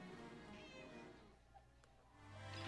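A cat meows softly indoors, a faint plaintive call heard over low background noise with a rising rumble near the end.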